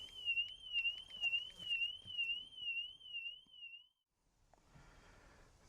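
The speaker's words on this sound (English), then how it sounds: "the alarm's now going off in the car" A car alarm on a Mini Aceman EV sounds a warbling, wavering electronic tone for about four seconds, then cuts off, leaving faint workshop background noise.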